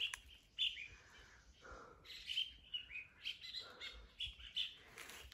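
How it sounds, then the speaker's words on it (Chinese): Birds sing on a flower-covered mountainside, giving out a series of short, bright chirps and tweets in irregular bursts. The calls are fairly faint and sound somewhat distant, against a quiet background with no talking. "这个听的鸟叫是舒服了"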